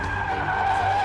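Rear-wheel-drive Porsche Boxster S tires skidding and squealing through a drift on a track, a loud, sustained screech with engine drone beneath, continuous for the whole moment.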